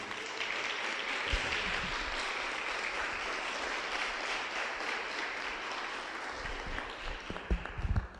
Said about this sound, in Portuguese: Dê uma salva de palmas para esse Deus, amém?